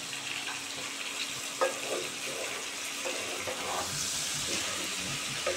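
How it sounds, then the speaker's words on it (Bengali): Pointed gourd and shrimp fry in a covered pan with turmeric, giving a continuous soft hissing sizzle with occasional small pops and a brief clatter, close and moderately quiet, no one speaking. "এবারে এটা ঢাকা দিয়ে সুন্দর করে ভাজবো।"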